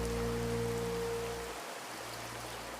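Steady rain falls at night in a continuous, even hiss, close and fairly loud throughout, with a faint low hum fading out partway.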